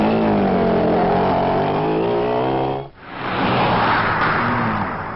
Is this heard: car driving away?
yes